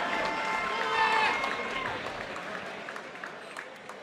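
At an amateur fight night in Orlando, a crowd cheers and claps for two fighters after their bout. The noise is moderate and fairly distant, with a few whistles near the start, and it gradually fades.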